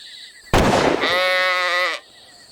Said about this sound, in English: That was a sheep.